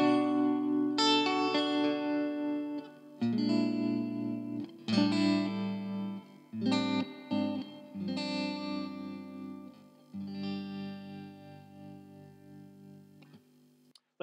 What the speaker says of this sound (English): And the spring reverb on its own sounds like this.